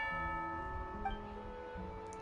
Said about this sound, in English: Hear the sound of a bell. Is that the bell?